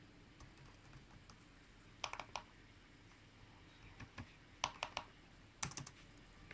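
Keys pressed on a ThinkPad T480s laptop keyboard, a few quick clustered clicks and taps at intervals against a quiet low hum, faint and close.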